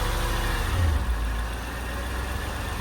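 A Mercedes car engine is held at 1500 RPM, producing a steady, close low hum and drone that barely changes across the few seconds, with no talking.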